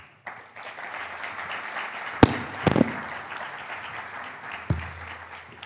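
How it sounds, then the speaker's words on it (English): Applause from the audience at an institutional welcome of a space-industry conference in Barcelona, greeting the Catalan Minister for Business and Labour: a moderate, steady crowd clapping with a few sharp, close bangs or knocks cutting through. "A big applause for him."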